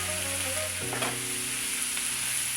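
Chicken frying in oil in a home kitchen, a dense, even hiss with a utensil knock and a brief tonal scrape early on, no voices.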